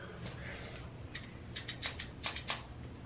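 Scissors snip hair in a quiet room, a few quick close clicks clustered in a short burst with no talking.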